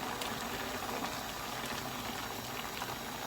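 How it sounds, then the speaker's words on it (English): Dry small fish and fresh mirga fish go into a simmering curry, which keeps up a steady, close bubbling and sizzling hiss throughout with faint popping and no speech. "at this point I will add the dry fish, the dry small fish and the fresh mirga fish."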